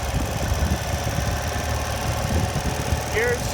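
Ural Patrol motorcycle running steadily with a rough mechanical clatter and vibration while the clutch is worked, close and continuous, with a voice briefly audible.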